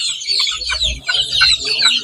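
Young Talisayan chickens, about two months old, cluck and call close by in a farm pen, a busy overlapping chorus of short squawks and clucks with a low rumble underneath.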